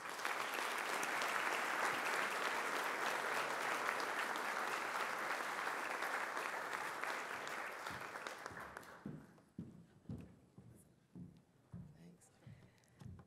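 Audience applause at an education conference plenary fills the room loudly and steadily for about nine seconds, then thins into scattered individual claps and fades out.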